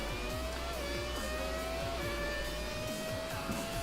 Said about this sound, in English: This is the 1998 MP413 driven by Mika Hakkinen.